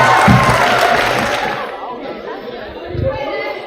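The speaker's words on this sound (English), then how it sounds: "We're going to clap them up to the mic, and we're going to clap for them after they're done." A school story slam crowd chatters and claps as a student storyteller heads to the microphone, the lively mix of voices and applause fading down to near quiet within a few seconds.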